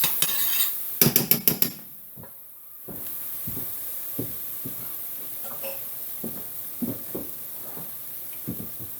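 Curry paste, already rich in oil, frying in a pan over medium heat: a steady bright sizzle with a burst of rapid clicks at the start, then rhythmic stirring scrapes and taps, close and with no talk.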